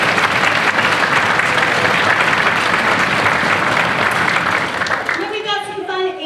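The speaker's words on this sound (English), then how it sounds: "so if we can give them a round of applause" An audience at a school orchestra concert applauding loudly and continuously, a dense crowd of clapping that fades near the end as a few sustained instrument tones enter.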